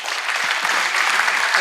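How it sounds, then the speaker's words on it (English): Brief burst of steady audience clapping for a keynote speaker at a clean-tech entrepreneurship event, dense and even with no voices over it. "Please give him applause."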